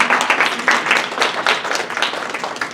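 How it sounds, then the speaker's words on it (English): Steady applause from an audience at an academic scholarly workshop, a dense wash of many hands clapping at moderate loudness throughout, with no voices standing out. "let's give them a big round of applause"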